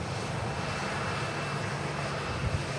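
Lufthansa Airbus A321neo jet engines heard from a distance as a steady, broadband roar with a faint low hum, continuous and unbroken throughout.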